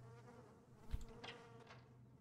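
Flies buzzing in a video game, a steady insect drone with a louder swell near the middle, heard alone.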